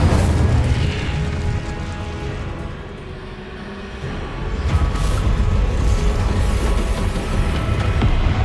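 Incendio fire spell cast in Hogwarts Legacy, a loud roaring whoosh of flames with booming bursts, dense and continuous with a brief dip in the middle before surging again.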